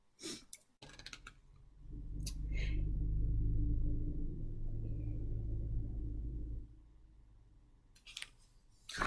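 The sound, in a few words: cars driving by outside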